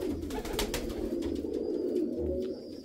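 Pigeons coo softly in the morning, giving low, rolling calls that repeat a few times close by over a quiet outdoor background.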